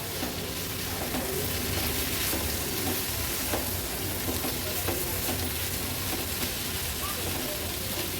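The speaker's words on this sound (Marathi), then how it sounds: "हाय फ्लेमवर थोडंसं व्यवस्थित परतून घ्यायचं आहे आपल्याला" Raw jackfruit and dried shrimp are stir-fried on a high flame, making a dense, constant sizzle with a faint scraping of the stirring utensil, close and steady throughout.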